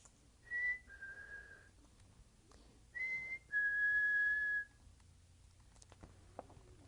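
Whistled signal in a dark forest at night, a short rising note then two sustained tones, the last one long and steady, clear against a quiet background.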